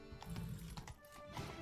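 Horse hooves clop as a rider moves along a road in The Witcher 3: Wild Hunt, a few uneven thudding steps with a whinny-like tone and game music underneath, brief and moderately close.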